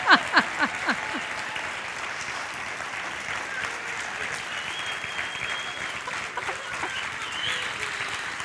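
A conference audience applauds after a keynote at the opening ceremonies of a cities conference, a dense, even wash of clapping that starts with a few sharper claps and holds steady.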